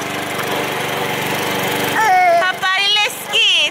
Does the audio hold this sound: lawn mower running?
yes